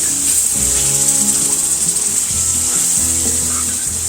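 Pork drippings gravy with small bits of pork sizzles in a pan as it is stirred, a close, steady hiss with soft scraping strokes and no voices.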